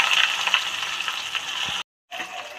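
Chopped onions fry in oil with cumin, cardamom, cinnamon and cloves for a mutton curry, a close, steady sizzle that cuts out abruptly for a moment before resuming, with no talking.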